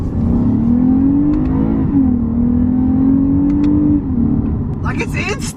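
A Lexus V6 car, a 2021 IS350 or 2020 GS350, accelerates hard with a steady engine drone that rises, then drops briefly at a quick gear change, and climbs again; a person speaks over the engine near the end.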